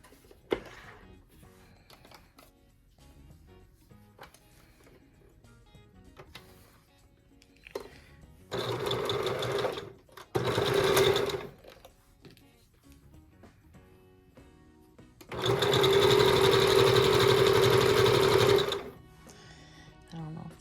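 A sewing machine stitches flying geese units for a quilt top made from Tula Pink fabrics, running in three bursts, short, then longer, with the final steady run lasting about three seconds, close and loud, with quiet handling noises between.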